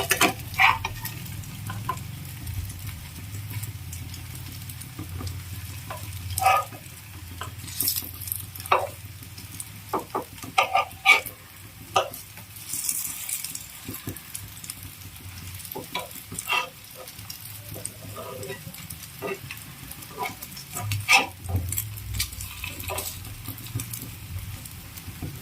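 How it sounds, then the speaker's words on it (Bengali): Semolina sandwiches fry in a pan with a steady soft sizzle, broken by occasional scrapes and taps of a spatula turning them, close and without talk. "দু তিন মিনিট মতো একটু ভাজা হোক"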